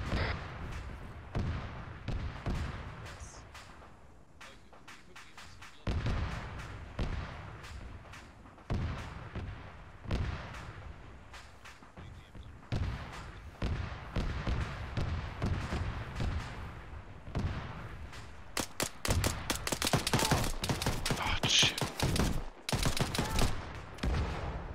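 Mortar and artillery explosions on a battlefield in Arma 3, a long run of repeated booms and crackling impacts at varying distances, growing denser and louder toward the end with rapid bursts of gunfire.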